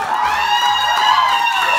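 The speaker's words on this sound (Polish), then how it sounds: "gorące, gorące brawa" Wedding guests cheer and whoop in a brief, lively burst, with bright overlapping voices forming a steady crowd roar.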